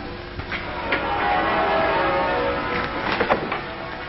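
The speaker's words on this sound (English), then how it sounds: "Listen to our wedding bells." Church wedding bells ring out over England, a muffled, slightly distant peal of overlapping tones that rises and swells with a few stronger strikes, heard alone.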